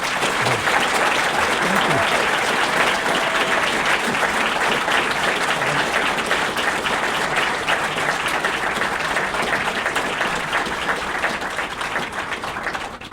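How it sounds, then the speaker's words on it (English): A crowd at a live podcast taping at the Banff Centre during the Banff Mountain Film Festival applauds in a sustained, full-room burst, loud and constant throughout and easing only slightly at the very end. "I'd love for everybody to give you a round of applause"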